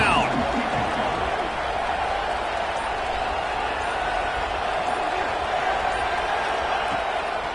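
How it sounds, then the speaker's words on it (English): A football stadium crowd roars steadily on third down at a college game, a dense, continuous wash of cheering and noise held at high level throughout, with a commentator's voice faintly audible over it. "Crowd getting this defense whipped up on 3rd down."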